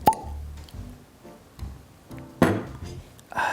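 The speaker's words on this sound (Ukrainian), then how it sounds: "бачимо, як прекрасно у нас все відкорковується" Wine bottle of Riesling opened with a corkscrew driven through sealing wax, giving a sharp pop at the start followed by several scattered clinks, scrapes and knocks of glass and metal, close and fairly loud.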